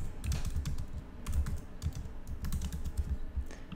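Typing on a laptop keyboard to write a comment on Instagram, with a steady run of close, quick key clicks throughout and no speech.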